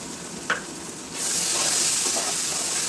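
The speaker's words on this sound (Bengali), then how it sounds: "তো চিনি আর রসুনটা দিয়ে আমি ভালো করে কষিয়ে নিচ্ছি" Browned onions with sugar and garlic paste sizzle steadily in a pan for a chicken curry, a faint tap early on before the frying hiss swells loud and constant.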